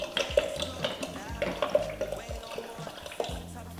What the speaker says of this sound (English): we're adding a little bit of warm water